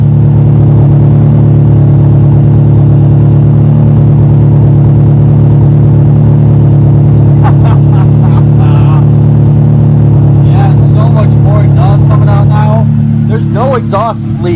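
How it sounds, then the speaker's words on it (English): Acura Integra GSR with a B18C1 engine after a head gasket job, running at a steady loud idle with a deep continuous exhaust drone, close by, with people talking over it toward the end. "Listen to this exhaust."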